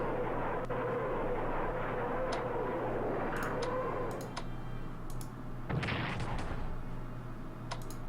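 Artillery rumbles steadily during a bombing attack in the WWII strategy game Strategic Command, with a dull boom partway through and scattered interface clicks above a constant droning bed.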